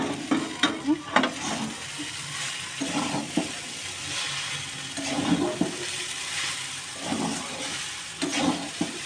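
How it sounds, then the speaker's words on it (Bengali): Chowmein noodles fry in a pan while being stirred, giving a steady sizzle broken by repeated scraping, tossing strokes close by, with no talking. "চাউমিনটা কিছুক্ষণ ভেজে নিয়েছি।"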